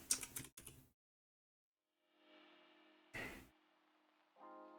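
Computer keyboard typing in short bursts of a few quick key clicks, separated by quiet gaps, close and fairly soft, with faint tonal hum in the background and no talk.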